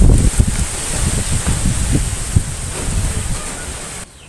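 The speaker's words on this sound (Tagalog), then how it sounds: "dito sa amin malakas po yung hangin at yan, medyo maingay po." Strong wind buffets the microphone in a steady rumbling roar with gusty low thumps, loud and close, dropping off abruptly near the end.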